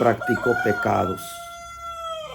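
Roosters crow from a neighbour's henhouse nearby: a drawn-out, tonal cock-a-doodle-doo rises clearly once a man's speech breaks off, holding steady for over a second.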